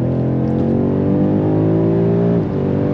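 A 2022 BMW M5 Competition LCI sedan pulls hard under steady, loud engine drone, the pitch climbing before a brief dip near the end as it shifts gear, heard from inside the cabin.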